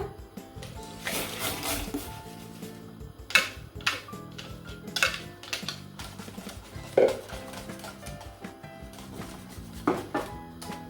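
A spoon stirs a pudding mixture into boiling milk in a metal pot, knocking and scraping against the sides in irregular clinks over a quiet background hum.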